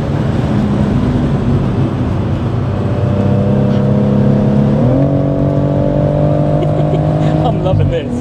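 A BMW M140i with a hybrid-turbo B58 engine drones loudly and steadily as it accelerates flat out on the Nürburgring, pitch climbing through gear changes, with a voice talking over the engine noise.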